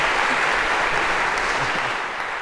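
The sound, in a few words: audience applause in lecture hall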